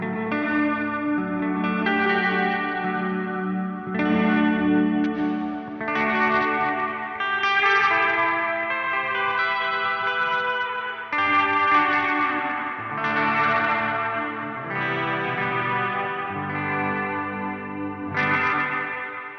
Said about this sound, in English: Probably my most commonly used setting in the Bigsky is my first bank, and it's C, which is a hall setting.